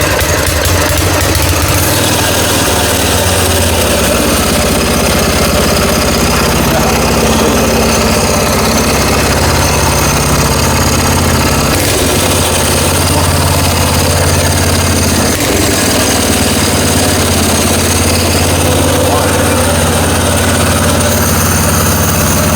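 A 212cc small gasoline engine on a bike pusher, running loud and close with a rough, rattling idle and uneven bursts of revving throughout.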